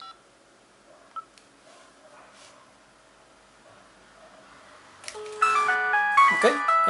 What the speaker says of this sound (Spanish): Vamos a hacer una llamada de prueba a este número de chip para ver que el celular funciona correctamente.